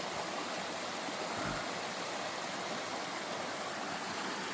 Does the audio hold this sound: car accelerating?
no